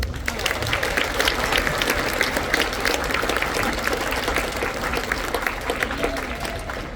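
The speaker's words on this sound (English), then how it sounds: "So let's give a round of applause to our blue band woodwind most improved, Brianna Langley." Audience at a freshman academy wind ensemble spring concert in a school setting applauding an award winner, a dense, steady patter of many hands clapping that fades slightly toward the end.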